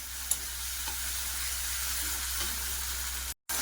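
Prawns frying in a pan: a steady, even sizzle that continues throughout with a faint click near the start and a brief dropout near the end, close and without voices.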